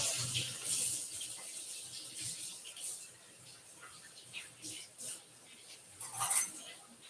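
Tap water runs at a kitchen sink as zucchini are rinsed, a faint uneven splashing stream with bursts of spray, quiet and close.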